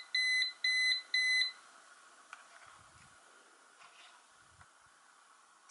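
A battery-powered pomodoro timer with a soft silicone cover beeps on its lower volume setting. Three quick electronic beep bursts sound at the start, fairly soft, then quiet room tone follows.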